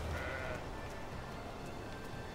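Sheep in the video game Magicka bleat in a quick, nasal burst at the start, followed by a wash of game noise and soft tones with no voices.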